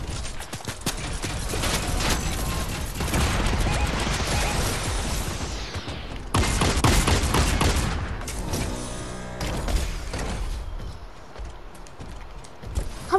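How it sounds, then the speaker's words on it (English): Rapid gunfire from a Fortnite match fills the whole stretch as dense, loud volleys of shots with a brief lull before the firing resumes, with no talk over it. "I'm shooting at that guy."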